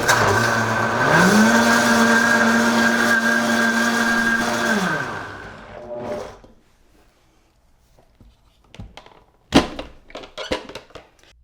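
A blender whirs steadily at high speed, mixing food to a smooth texture, its motor pitch rising and holding for several seconds before it winds down and stops, followed by scattered clunks and taps of the jar being handled.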